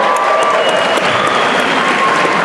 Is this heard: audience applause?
yes